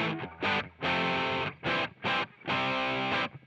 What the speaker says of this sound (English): we're gonna throw a tube screamer type of thing on there